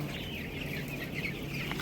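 A large flock of 14-day-old broiler chicks on a poultry farm of about 22,000 birds gives a dense, continuous chorus of peeping and clucking at steady, moderate volume.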